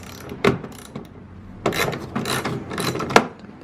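Ratchet wrench backing out 10mm bolts on an Infiniti Q50 tail light: short bursts of clicking and scraping with gaps between, near and moderately loud.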